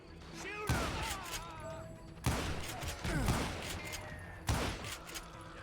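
Gunfire in the Western shooter Call of Juarez: Gunslinger, three sharp loud shots spaced about two seconds apart, each with a booming tail, over background game sounds.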